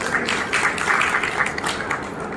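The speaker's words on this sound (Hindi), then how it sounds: "आप सभी एक बार अपने लिए भी ताली बजा लीजिए।" An audience at a Buddha Purnima gathering claps for themselves, a steady wash of many hands at moderate loudness, heard from within the hall and continuing for a few seconds without talk over it.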